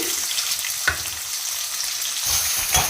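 Onion fries in hot oil in a pan for a leafy vegetable curry, making a close, steady sizzle broken by a few brief stirring scrapes.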